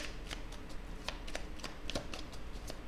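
A deck of tarot cards is cut and riffled by hand, a quick run of crisp, close papery flicks and snaps in an otherwise quiet room.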